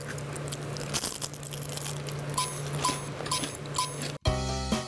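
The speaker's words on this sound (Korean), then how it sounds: "바삭바삭하고 엄청 고소해요." Crunchy fried Korean gwajul, a rice snack made in a Taebaek village, is bitten several times at close range. The crisp crunches sit over a steady low hum, and a brief loud thump comes near the end.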